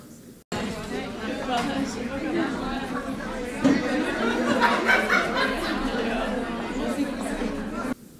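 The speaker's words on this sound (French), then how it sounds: "Un restaurant." Restaurant ambience: a steady hubbub of many overlapping conversations with occasional chuckles and laughter, starting abruptly and holding at a moderate level, with no single voice standing out.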